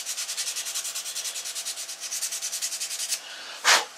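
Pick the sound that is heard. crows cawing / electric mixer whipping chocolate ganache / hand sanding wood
hand sanding wood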